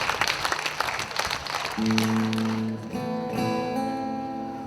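Audience applause at the Rutenia 2017 festival concert, a dense, close crowd clapping for under two seconds before sustained musical tones take over and continue to the end.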